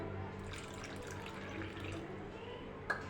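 Water poured into semolina and curd batter for spinach dhokla, a soft continuous trickle close by and fairly quiet, ending with a small clink near the end.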